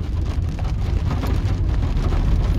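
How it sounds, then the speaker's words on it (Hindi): Rain starting to fall near a Hyundai Grand i10 Nios CNG car, a loud, close, dense patter that runs steadily throughout with no voices. "अभी दोस्तों बारिश स्टार्ट हो गई है"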